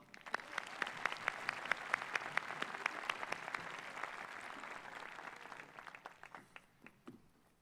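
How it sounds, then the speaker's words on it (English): A high school graduation crowd applauds, a moderately distant wash of clapping with distinct individual claps standing out, staying fairly steady before gradually tapering off into scattered claps. "So can we give a round of applause to Sahil?"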